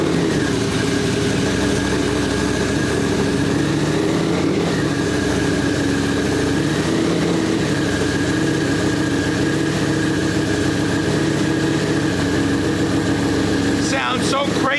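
A Street Fighter motorcycle idles after starting up, its engine holding a steady, loud, slightly lumpy rumble with a couple of small blips. A brief burst of other noise breaks in near the end.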